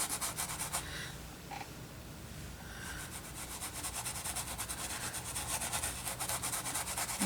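A brush scrubs acrylic paint onto canvas in a steady, soft, rasping rub with repeated short strokes, close and fairly quiet, with no talking.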